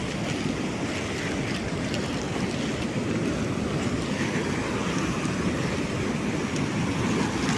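Ocean waves surge and wash continuously onto a monsoon-season beach at Anjuna in Goa, a steady broad roar with wind buffeting the microphone throughout and no voices.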